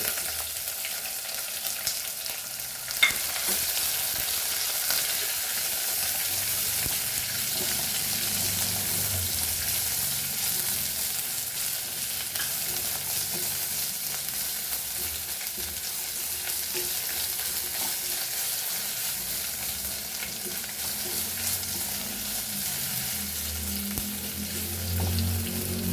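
Onion sizzles in a pan for Goan cabbage foogath, a soft, continuous frying hiss with a single sharp clink early on and a few faint scraping stirs later.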